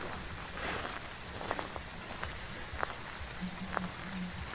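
Heavy rain setting in the Phasmophobia ghost-hunting game: a steady broadband wash of rainfall fills the whole clip, with a few sharp taps and faint low thuds scattered through it and no talking.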